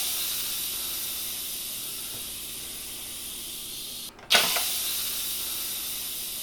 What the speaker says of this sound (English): I'm going to turn it sideways here and release the rest of the steam